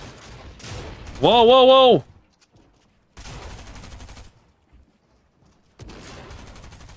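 Gunfire in the video game Fortnite: bursts of shots in three separate spells, interrupted by a loud exclaimed voice and short gaps.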